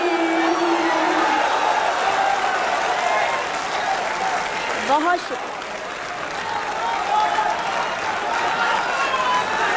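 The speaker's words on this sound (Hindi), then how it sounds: "जोरदार तालियां फिर अपने लिए बजाइए" A large crowd applauds loudly and continuously, a dense wash of clapping with a few cheers, and a voice speaks briefly over it.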